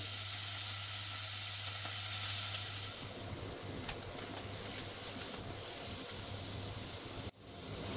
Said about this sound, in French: Le but c'est de récupérer les sucres de la viande. Donc si vous la remenez dans tous les sens, elle va bouillir, elle va pas saisir.